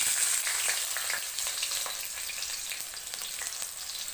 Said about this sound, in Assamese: এয়া মোৰ কেৰাহীত তেল গৰম হৈছে। এতিয়া মই ইয়াতে দিম পিঁয়াজ